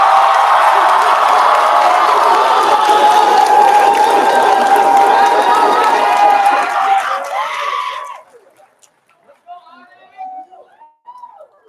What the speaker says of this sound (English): everyone please give a big round of applause to Miss PCN herself, Janelle Tadeo.